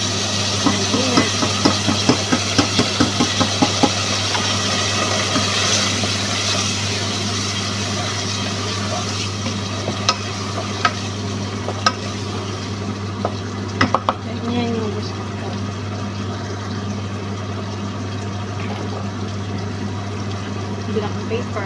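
Sardines added to a hot frying pan, sizzling steadily with stirring and scraping, a cluster of clanks at the start and a few more knocks later, over a constant low hum.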